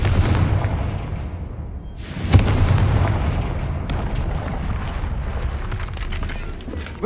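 A Confringo fire spell explodes in Hogwarts Legacy, a loud booming blast with a sharp onset followed by a long rumbling decay, then a second crack a couple of seconds later amid ambient game noise.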